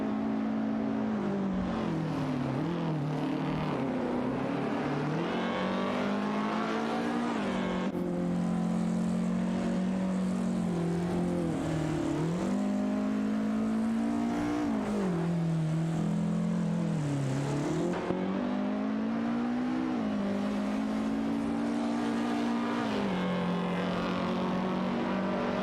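Race cars roar around the track in an AI racing video game, with layered engine whines droning continuously and sweeping up and down in pitch as the cars battle for position.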